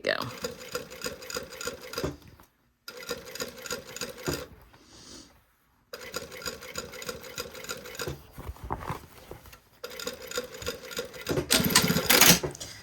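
A sewing machine runs in steady bursts while stitching down a collar, motor whirring with quick needle chatter, stopping briefly several times between runs; close and clear with no talk over it.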